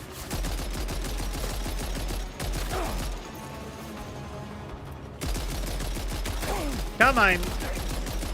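Machine-gun fire in Death Stranding 2 rattles in dense, continuous bursts that fill most of the stretch, breaking off briefly mid-way, with a voice speaking over the shooting.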